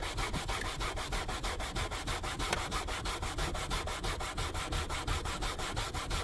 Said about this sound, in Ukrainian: І починаємо терти.